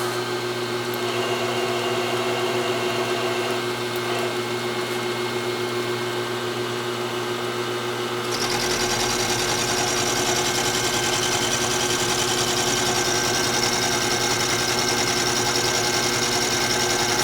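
A Grizzly milling machine cuts steel held in two milling vises, giving a steady, loud mechanical whir and hum that grows broader and brighter partway through as the cutter engages the work, with no talk.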